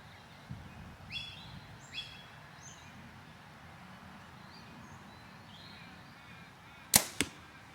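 An arrow is loosed from a PSE Full Throttle compound bow outdoors: a sharp, loud thwack of release and a quick second impact near the end, after quiet moments with distant birds chirping.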